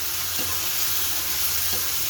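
A paste of poppy seed, cashew, melon seeds, ginger, green chili, tomato and yogurt fries in hot oil with a dense, even sizzle. Two faint stirring scrapes sound close by, and no one speaks.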